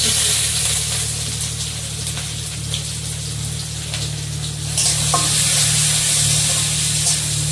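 Onion frying in hot oil with panch phoron spice tempering, a steady loud sizzle and spatter running throughout, briefly intensifying midway over a low background hum.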